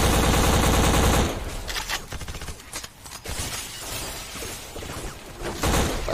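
Rapid gunfire and shattering impacts from the video game BLACK burst loudly in dense, irregular volleys, with a droning mechanical tone at the start and no speech.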